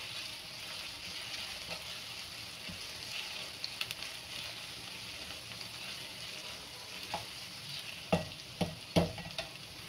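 Chilli paneer paste sautéed and stirred in a pan, a quiet steady sizzle with occasional spoon scrapes that grow into several sharper knocks near the end.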